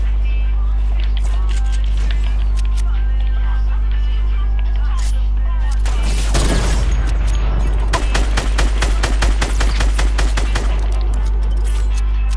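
A sentry gun in a video game opens fire in bursts of rapid automatic shots, loud and close, starting about six seconds in and continuing in quick rattling volleys to the end over a low hum.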